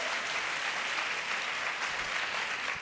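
An audience at a debate on whether to still have children breaks into steady, dense applause that fills the whole moment, with no talk over it.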